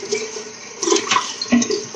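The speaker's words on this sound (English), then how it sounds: "Let me just rinse off." Running water splashes as someone rinses off, a close, moderately loud patter with a few irregular splashes and gurgles over about two seconds, no speech.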